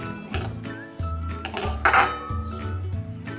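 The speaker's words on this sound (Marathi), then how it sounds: "छान असं एकसारखे हलवून भाजून घेऊया।" Vermicelli is stirred as it roasts in a metal pan, the spoon scraping and clinking against the pan in quick, close, ringing strokes with no talk.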